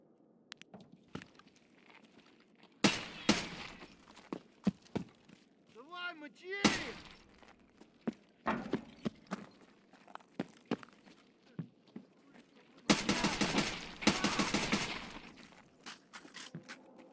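A DMR rifle is test-fired in Escape From Tarkov on the Factory map. Several sharp, loud reports ring out at intervals, including a quick burst of shots, among footsteps and light clatter.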